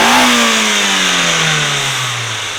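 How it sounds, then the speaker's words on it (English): A Nissan Silvia S15 Autech engine drones loudly nearby in fourth gear, its pitch sliding steadily lower as the revs drop. "So let's set this up for 4th gear."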